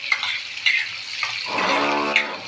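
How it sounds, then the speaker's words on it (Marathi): Butter melts in a hot kadhai with a soft sizzle, broken by a few faint scrapes and clinks, and a tonal hum swells in the second half. "कढई गरम करून त्याच्यात फोडणीसाठी हे बटर घातलेलं आहे"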